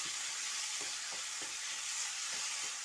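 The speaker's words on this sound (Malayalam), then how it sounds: "നമ്മുടെ തക്കാളി ഇവിടെ നല്ലപോലെ വഴണ്ട് വന്നിട്ടുണ്ട് ഇനി ഒന്നുകൂടെ വേവാനുണ്ട്" Tomatoes sauté in a pan with a soft, continuous sizzle, and a spoon stirs them in a regular scraping rhythm, close and fairly quiet.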